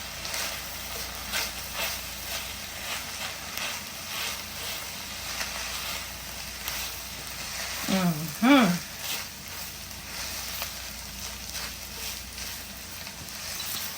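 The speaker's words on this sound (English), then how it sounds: "We're going to incorporate our rice with our ground meat and sausage." Rice stirred into ground meat and sausage in a pot, making a steady soft sizzle and scraping texture throughout, with a brief vocal sound near the middle.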